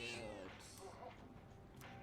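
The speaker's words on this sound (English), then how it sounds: "The cat is purring loudly. It seems happy." A cat in the Persona 3 Reload video game lets out a short, high meow, followed by softer purring and small mewing sounds, all fairly faint and close.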